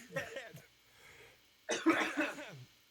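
Several rough coughs in two clusters, fairly close, with a quiet pause between them.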